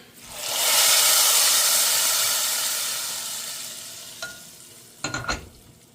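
A hot mustard seed tempering hits a pot of sambar with a loud, rushing sizzle that swells quickly and then slowly fades, followed near the end by a few sharp metallic clinks of a pan or spoon.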